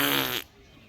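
A single loud, buzzy fart rips out for under half a second and cuts off abruptly, leaving near silence.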